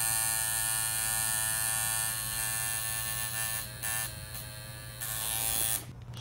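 A tattoo shader machine buzzes close by, a steady electric hum with a whiny tone that briefly stutters and cuts in and out over about six seconds.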